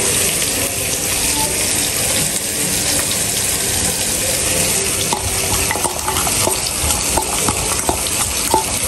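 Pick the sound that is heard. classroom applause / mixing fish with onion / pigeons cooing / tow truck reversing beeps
mixing fish with onion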